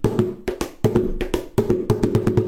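Hollow hand strikes on a plastic basin in a quick, uneven rhythm, mixing deep thumps with sharper slaps, close and fairly loud with no voices.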